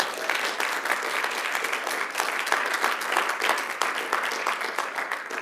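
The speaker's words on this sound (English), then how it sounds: "Round of applause for those funders." A theatre audience claps for the company's funders before a play, a full, even burst of applause from many hands that holds steady without talk.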